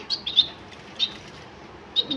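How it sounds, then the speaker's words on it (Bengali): Finches chirping among their nests, heard as a few short, high chirps spaced about a second apart against a quiet background. "আর এটা হলো ফিন্স পাখি।"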